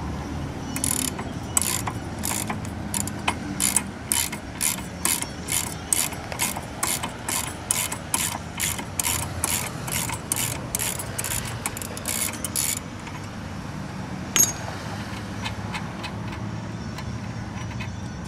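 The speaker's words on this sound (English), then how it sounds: "Step two is to remove the nut from the prop." A ratchet wrench turns the nut off a boat propeller shaft, producing a steady run of sharp metallic clicks in even rhythm for most of the stretch, close and fairly loud, before the clicking stops and a single clank follows.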